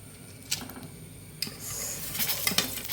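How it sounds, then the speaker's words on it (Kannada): A spoonful of mustard seeds sizzles and crackles in hot oil in a pan, with soft scattered pops and a faint scrape of a spoon against the vessel. "1 ಚಮಚದಷ್ಟು ಸಾಸಿವೆಯನ್ನು ಹಾಕ್ಕೊಂಡಿದ್ದೇನೆ ನಾನು."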